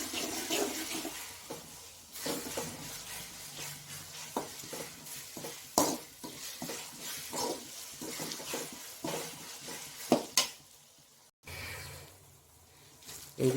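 Ginger garlic paste sautés in a pan for a soya gravy, with a continuous sizzle broken by repeated scraping stir strokes and a few sharper clinks of the spoon against the pan.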